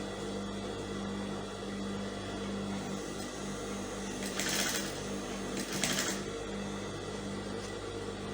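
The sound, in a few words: sewing machine stitching pleated flare of gown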